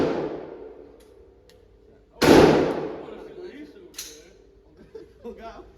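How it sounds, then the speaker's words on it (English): A shotgun fires once at a gun range, a loud, close blast with a ringing decay and a fainter report a moment later. People talk and murmur around the shots. "That sound like a shotgun."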